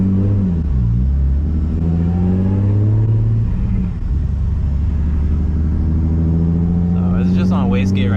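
A Nissan 350Z engine idling on wastegate boost control, a loud steady low rumble with one brief dip and slight rev changes, a person talking over it near the end.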